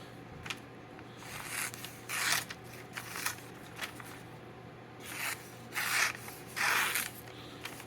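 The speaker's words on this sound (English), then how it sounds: "Why don't we go ahead and test that edge? We have some telephone book paper here." A sharpened knife edge slices through thin telephone book paper in a series of short, crisp swishing cuts, several in quick succession, close and fairly quiet with no talking.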